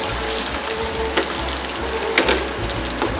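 Tuna searing in a pan that is not quite at full heat, a loud continuous sizzle and frying crackle up close with a few sharper pops.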